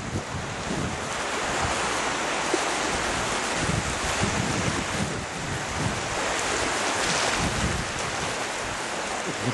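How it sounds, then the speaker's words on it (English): Ocean surf rolling in steadily as the tide comes in fast, a continuous loud wash of waves mixed with strong wind buffeting the microphone. "Tide comes in pretty fast here, if I look at it."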